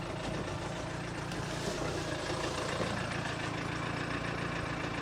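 A used family car bought at a Copart auction, its engine idling just after ignition with a low, steady rumble that stays faint and even throughout, with no talk.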